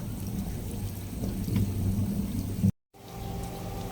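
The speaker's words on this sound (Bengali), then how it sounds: "এখন একটু ভাজবো।" Chira pitha, a flattened rice cake, frying in hot oil gives a steady close crackling sizzle with no talk, cut by a short break near the end before the frying noise picks up again.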